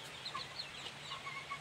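Domestic desi chickens in a home coop, roosting in their spots, give soft, sporadic clucks and short calls at close range over a low steady hum.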